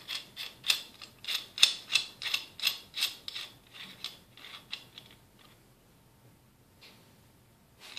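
Ratcheting clicks from loosening the rear nut on a 2011–2014 Kawasaki ZX10R headlight, a quick run of close, crisp clicks that slows and fades into quiet.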